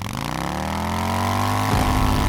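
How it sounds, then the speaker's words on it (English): A motorbike approaches with a loud, steady engine roar that climbs in pitch, then shifts abruptly near the end as it draws close, with no voices. "Suddenly, the roaring sound of a motorbike could be heard approaching."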